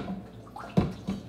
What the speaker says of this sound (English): Now, we're going to take the colander. You're going to shake this.